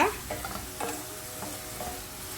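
Onions sautéing with salt in a pan, a close, steady sizzle broken by a few light scrapes and taps of a spoon stirring.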